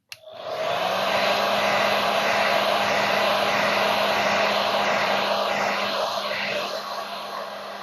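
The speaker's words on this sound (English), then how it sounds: "then I'll hit it with the blow dryer again" A blow dryer roars steadily at close range while heating vinyl wrap film on Mach 1 car badging, a constant loud airy whoosh that runs the whole time without pause.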